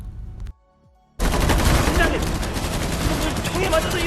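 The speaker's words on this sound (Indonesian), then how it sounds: "Tim polisi menembak secara membabi buta" Police gunfire in a zombie film: after a brief near-silent gap, a loud, dense fusillade of rapid shots bursts in and continues without pause, with clattering and shouting mixed through the barrage.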